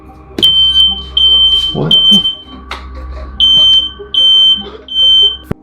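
A fire alarm goes off in loud, piercing high-pitched beeps in a repeating pulsed pattern, close by, with a brief startled voice and some thuds and movement mixed in.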